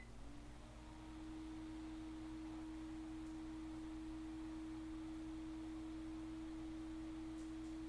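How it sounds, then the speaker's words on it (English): A light-socket ceiling fan with a built-in light running on high speed gives off a steady, unbroken electrical hum with a low rumble beneath, its tone settling in after the first second and holding level throughout, with no voices. "it definitely has a noticeable hum when it is on"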